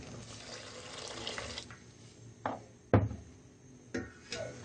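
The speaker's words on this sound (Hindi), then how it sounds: "अब हम इसमें ठंडा पानी डालेंगे।" Cold water poured into reduced Kashmiri pink tea in a pot, a few short splashing bursts of liquid close by over a low background hum.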